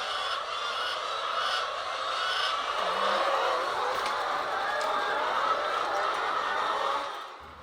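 Chickens crowd a laying hen farm's coop with a dense, continuous chorus of clucking and honking squawks at moderate loudness, steady throughout before tapering at the end, with a voice faintly present beneath.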